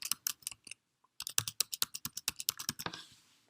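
Quick bursts of key presses on a computer keyboard as a password is typed, crisp close clicks in two rapid runs separated by a short pause.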